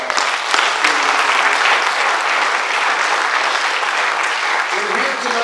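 Audience applauding at a 50th anniversary celebration of a college journalism program, a dense, steady wash of clapping that holds loud from start to finish.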